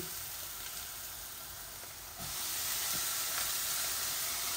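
Onions and khatta leaves sizzle while frying in a pan, a soft steady hiss that grows slightly louder partway through, with no talking.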